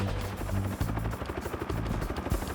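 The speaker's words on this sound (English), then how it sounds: "The Huey is, of all these helicopters, the greatest of all time." A Bell UH-1 Huey helicopter heard up close, its rotor blades thumping in a fast, steady low-pitched beat over engine whine for the whole stretch, loud and without any voices.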